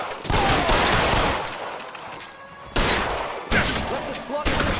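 Rapid gunfire bursts and fusillades in a video game war scene, loud and close, with shouted voices mixed in among the shots.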